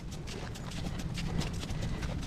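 A horse being hand walked gives a steady, close clip-clop of hooves, an even rhythm of soft strikes repeating throughout over low ambient rumble.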